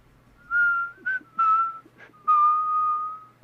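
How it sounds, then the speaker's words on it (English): A familiar melodic whistle, four sustained tonal phrases with short pauses between them, the last held longest, clear and fairly close against a quiet background. "Eric, you hear a familiar whistle"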